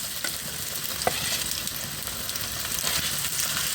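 Food frying in hot oil gives a close, dense and steady sizzle, with a few faint stirring knocks and no voices.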